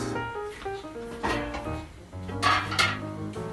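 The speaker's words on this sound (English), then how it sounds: "we take the pan and start throwing everything in it" A cooking pan clatters and knocks against metal as it is picked up and handled for a doodhi and pardhi sabzi, in a few quick, moderately loud bursts of clanking over a soft tonal background.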